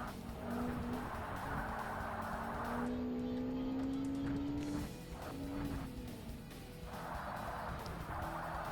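A Lotus Exige in Forza Motorsport, its engine droning as the tyres squeal loudly through a corner in two long skids, with the car on the edge of spinning.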